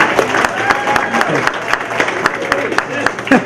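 An audience at a county employee recognition breakfast keeps up loud, steady applause with sharp individual claps and a murmur of crowd noise mixed in throughout.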